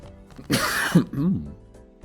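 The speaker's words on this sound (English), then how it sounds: "coughing away there" A close, harsh throat-clearing cough, one rough burst trailing into a couple of shorter guttural grunts.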